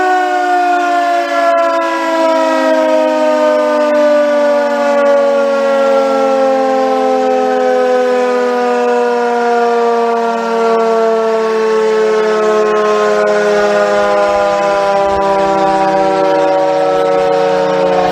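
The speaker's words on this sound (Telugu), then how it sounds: "భారతదేశంలో కూడా యుద్ధ సైరన్ మోగింది" A civil defense war siren wails during a mock drill, one long, loud, sustained tone that slowly slides lower in pitch and holds for the whole stretch, with no other sound over it.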